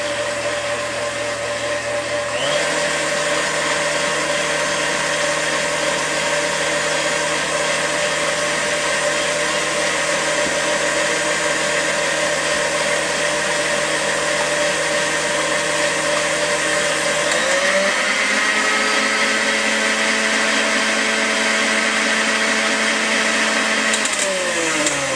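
An electric mixer beats egg whites in a bowl, a steady close whirring drone that holds constant, then shifts speed partway through before settling again.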